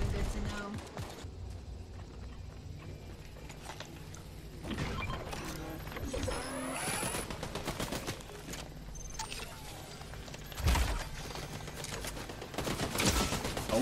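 Rapid bursts of gunfire in a Fortnite match, sharp volleys and single shots popping over a steady game soundscape, with one louder blast near the end and voices talking intermittently throughout.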